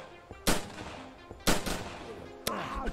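An enemy's gun fires in a video game, three sharp shots spaced about a second apart, each followed by a short ringing tail over faint background game sound.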